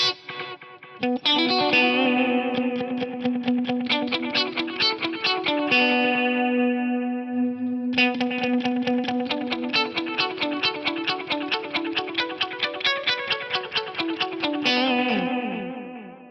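Electric guitar played through an Eventide Eclipse with delay and reverb, picked repeating notes ringing over a sustained low tone, each phrase trailing into echoing repeats and a reverb wash before a pause and a second similar passage.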